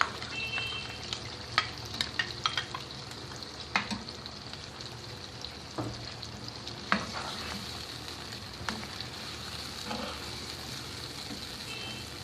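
Onions fry in a pan with tomato paste and yogurt for a Pakistani aloo chicken salan, making a soft, continuous sizzle broken by close scraping and stirring clatter from a utensil.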